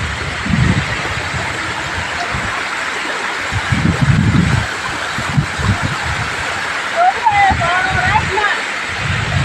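Water pours steadily from a waterfall into a lake at Bhavnath, a broad continuous rushing wash, with a voice speaking over it and occasional brief sounds on top.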